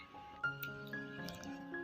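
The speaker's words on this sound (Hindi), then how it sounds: "इस तरह आपने चम्मच की मदद से अच्छी तरह मैश कर लेना है।" Cooked lentils being mashed with a spoon for beef shami kabab, giving soft, wet squishing and small clinks of the spoon against the pot, close and fairly quiet.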